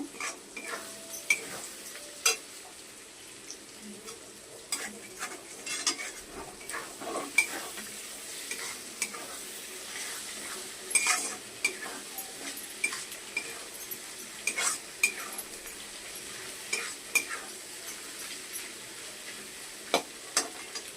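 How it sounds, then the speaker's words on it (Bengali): Chicken and egg are stirred together in a hot pan, with soft sizzling under irregular scraping and clicking strokes of the spatula, quiet and steady. "এবার এটা এর সাথে মিক্সড করে নেব, ডিমের সাথে চিকেনটাকে মিশিয়ে নেব।"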